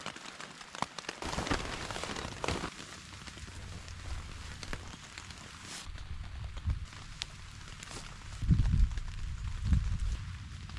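Rain falling on a campsite in the Hauraki Gulf, a steady crackling patter that holds throughout, with a few heavier low thumps near the end.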